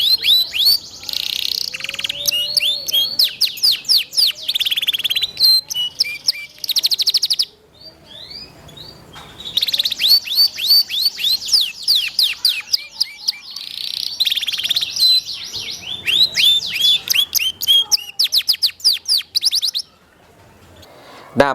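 A Scotch Fancy canary sings long, busy phrases of rapid high chirps, trills and whistles, close and clear, with brief pauses between bursts and no talking.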